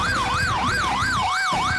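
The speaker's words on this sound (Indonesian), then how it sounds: "Menepilah sebentar dan persilahkan ambulans tersebut mendahului kita" An ambulance siren wails in a steady rising and falling sweep, loud and close, repeating its cycle continuously with road noise underneath.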